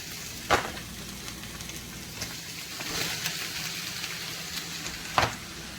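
Onions fry in a hot skillet, a soft continuous sizzle with a few louder crackles and stirring scrapes, fairly faint and close, with no talk over it.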